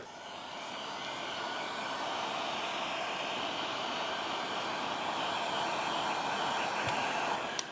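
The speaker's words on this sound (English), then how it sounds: "So what I like to do is use a little bit of heat with my heat gun." A heat gun blowing over drips of cured resin, a steady, loud, broadband roar that holds evenly and close for the whole stretch with no talking.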